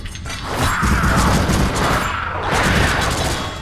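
Sustained gunfire from a video game, a dense, loud barrage of shots and booms running steadily through the whole stretch without letup or speech.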